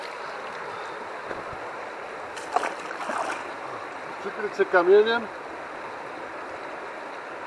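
A mountain stream in Norway flows with a steady, close rushing hiss throughout, while a person speaks briefly over it in the middle.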